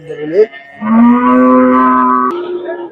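Native bullock calves at a rural cattle market in Erode district, Tamil Nadu, give one loud, sustained moo close by, rising in pitch and holding steady for about two seconds, after a brief shorter call.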